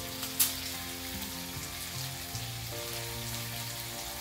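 Bacon sizzles and crackles steadily in a hot pan, a quiet constant frying hiss with a soft clatter near the start.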